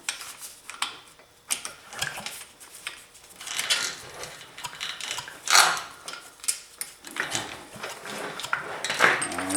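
Chain tool pressing a link pin out of a motorized bicycle chain for an 80cc engine kit build, heard as close, irregular metallic clicks, ratcheting and clinks with a few sharper snaps, no talking.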